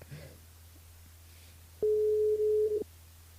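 A single long electronic telephone tone sounds for about a second during a live radio call, steady and clear over a low hum, after a brief faint voice at the start.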